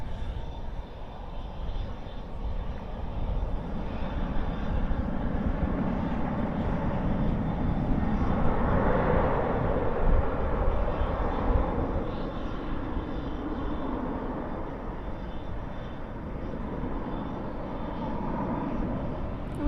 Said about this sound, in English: That is the Airbus A321 going to Denver